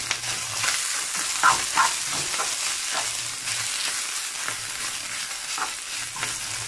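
Homemade soy chorizo fries and browns in a pan with a steady, close sizzle, broken by occasional scrapes and stirring taps of a utensil against the pan, with no talk.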